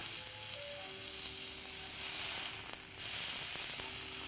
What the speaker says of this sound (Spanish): Pero está burbujeando la carne, ¿sí? Porque está alargando su propia grasa